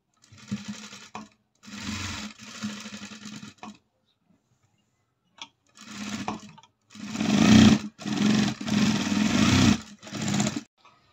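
A sewing machine stitches a chudidar top in close, steady whirring runs, starting and stopping several times with short pauses, the later bursts longer and louder.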